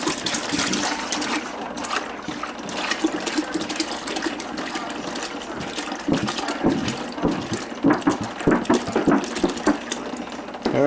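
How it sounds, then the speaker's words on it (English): A whole gallon of milk pours into a stainless steel pot, a loud, continuous gurgling splash that runs unbroken and close by, with no one speaking. "So I'm going to pour a whole gallon of milk into this"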